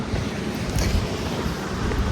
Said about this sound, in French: J'ai juste le vent en pleine tronche depuis tout à l'heure